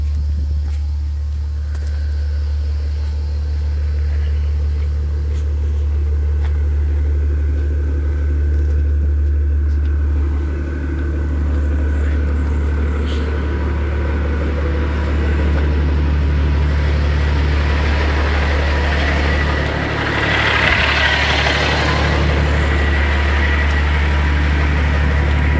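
A Peterbilt 359 truck engine idles steadily at close range, a deep continuous low rumble that holds constant with a slight swell near the end, with no talking.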